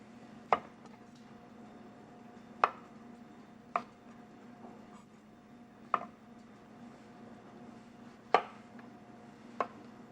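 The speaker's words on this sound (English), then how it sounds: "I have some porcini mushroom here, fresh porcini mushroom. I'm going to slice them" A knife slices fresh porcini mushrooms on a board in a chef's kitchen: six sharp, isolated cuts spaced a second or two apart over a quiet, humming room.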